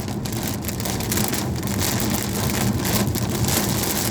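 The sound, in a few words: rain falling during a Normandy storm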